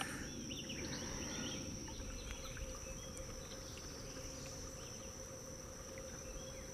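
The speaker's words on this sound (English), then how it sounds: "I hear a lot of bees." Constant insect buzz drifts from the trees at Fort Parker State Park, a thin, steady droning hum that runs unbroken and fairly faint throughout, with no voices over it.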